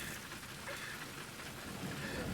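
Steady, dense rain hiss pours down continuously in the video game Fatal Frame III: The Tormented, fairly loud and close, with no other clear sounds.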